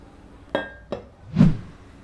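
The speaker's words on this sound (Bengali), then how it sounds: "প্যানটা চুলায় বসিয়ে দিলাম।" A metal pan placed on a kitchen stove gives two quick, sharp clinks followed by a duller, heavier knock, close and clear in a quiet room.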